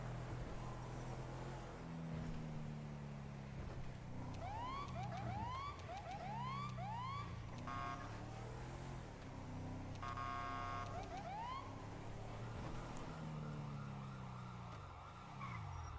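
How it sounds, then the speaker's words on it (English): Police sirens from a video game wail and yelp steadily over a continuous engine and traffic roar, with repeated rising electronic chirps and a brief skidding sound. "Alright, well I can hear his siren, so I know we're close."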